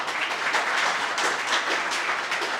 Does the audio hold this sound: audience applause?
yes